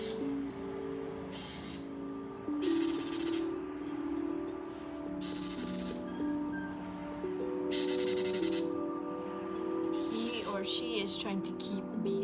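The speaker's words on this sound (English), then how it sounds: "That's the Bewick's wren." A Bewick's wren calls near its nest beside a lake, repeating bright, buzzy call bursts at steady intervals, close and clear, over a continuous background hum.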